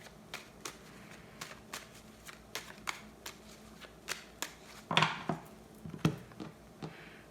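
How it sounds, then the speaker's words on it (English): Tarot cards being drawn and handled during a reading, giving a series of soft, crisp flicks and snaps spaced irregularly, with a slightly louder burst of shuffling partway through, close and fairly quiet with no talking. "Get 4 more cards out just to see."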